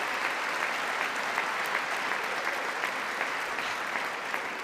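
Sustained audience applause during a presidential address to Congress, a dense, even clapping wash heard loud and alone for the whole span.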